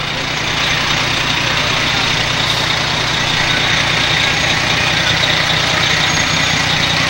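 A parade truck idles nearby at a small-town parade, a steady low diesel rumble that stays constant and fairly loud throughout with no talk over it.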